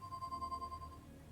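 A phone rings in the Leisure Suit Larry video game, with a faint electronic ringing tone that holds for most of the moment before fading out over a low background hum.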